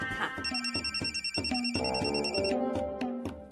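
An electronic phone ringtone plays a repeating melodic pattern of beeping tones, clear and fairly close, with no talking.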